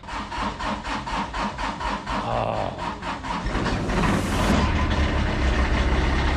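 The engine of an old Kubota zero-turn mower is cold started after months unused. It cranks with a rhythmic churning beat, then catches into a steady, loud running roar.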